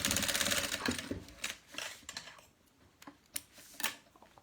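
Sewing machine running a finishing seam on a quick thermal can-holder project, a fast rhythmic stitching burst at the start that slows into short intermittent runs and clicks, close and moderately loud with no talk.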